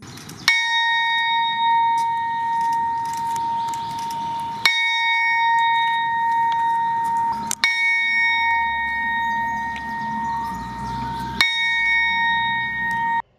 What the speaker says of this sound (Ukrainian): У Франківську вкотре пролунав дзвін пам'яті за загиблими у російсько-українській війні військовослужбовцями.